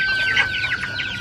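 Native chickens and chicks cluck and peep up close, a steady run of soft, overlapping calls over light background noise.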